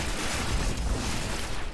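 Rapid burst gunfire in a video game, a dense rattling volley of shots packed together over a short stretch, loud and continuous with no talk over it.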